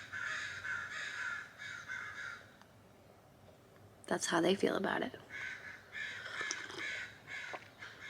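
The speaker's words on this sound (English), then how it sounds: "So if you hear crows during this entire video, it's my fault." Crows cawing outdoors, loud repeated harsh caws in bursts, close by, with a person talking briefly between the calls.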